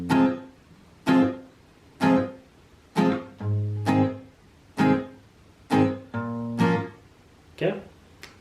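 An acoustic guitar plays the part 1 chords of a song, with slow, evenly spaced strums, each ringing and decaying before the next, clear and close with no talking.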